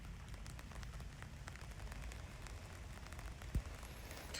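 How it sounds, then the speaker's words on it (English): Rain patters steadily on the fabric of a tent outside, a soft continuous hiss with scattered drops and one brief thump, heard alone with no talking. "we're starting to get some rain"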